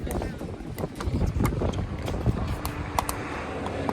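Outdoor wind buffets a microphone in uneven, rumbling gusts with sharp crackling bursts, while people talk over it.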